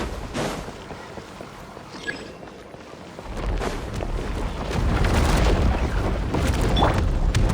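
A breakable wall blasted apart in Genshin Impact, heard as a heavy booming burst that swells into sustained rumbling debris and a louder roar over the last few seconds.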